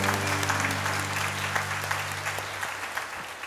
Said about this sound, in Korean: 하나님께 감사와 영광의 박수하겠습니다